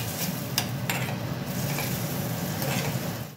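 Turmeric being stirred into a frying tomato mixture in a pan for a Maharashtrian cauliflower sukhi bhaji, a steady close sizzle with a few scraping stirs and no talk.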